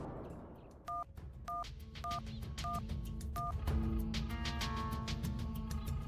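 A telephone keypad sends five evenly spaced dual-tone beeps as a number is dialed. Music and a noisy crowd swell up behind them in a comedy cartoon scene.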